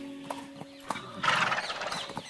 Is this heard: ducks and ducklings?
no